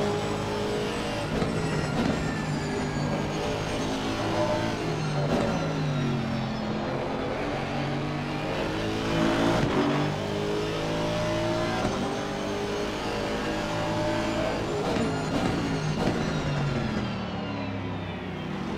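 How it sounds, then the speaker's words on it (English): A race car's engine heard from an onboard camera in a racing game, roaring and revving continuously with rising and falling pitch as it shifts through gears, loud and close with no talk. "we're also going to have a little listen at some engine noises"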